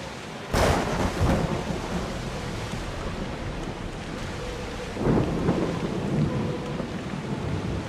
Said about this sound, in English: Would you look at that storm?